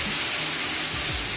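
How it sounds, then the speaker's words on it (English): Beef broth is poured into a hot pan for oxtail gravy, making a broad, loud hiss and sizzle that fills the moment steadily, with a low bubbling burble near the end. "Okay, now I got my beef broth here. Like I made them, put a little bit of it in here."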